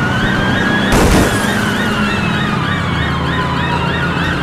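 A video game police car siren wails in a steady rising-and-falling cycle over a car engine, with one sharp burst near the start.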